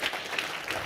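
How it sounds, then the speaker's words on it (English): A conference audience applauds for a speaker in brief, moderately quiet clapping that stays even throughout the short moment. "Give her a warm applause"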